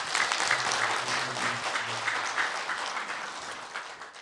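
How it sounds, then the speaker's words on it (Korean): An audience at an academic lecture on Seon Buddhism claps in a soft, diffuse round of applause that gradually thins out, sounding moderately distant in a hall. "박수 부탁드립니다"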